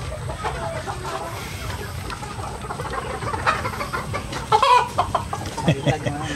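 Darag native chickens on a farm cluck steadily at close range over a busy outdoor background, with a few louder calls near the end.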